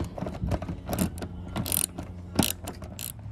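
A ratchet wrench turns out a 10 millimeter bolt on a Nissan Maxima headlight, with steady close clicking of the pawl and a few sharper metallic ticks, no talking.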